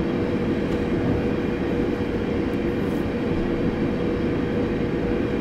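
A train in Train Simulator 2018 slows on its approach to Gillingham station, a loud, steady rumble of wheels and motors that holds constant throughout, with no voices.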